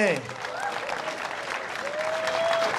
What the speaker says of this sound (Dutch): En een heel groot applaus voor deze kampioen